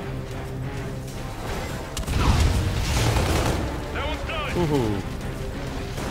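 Gunfire and explosions in Call of Duty: Infinite Warfare, with booming blasts and crashing bursts layered under a player's voice and short exclamations.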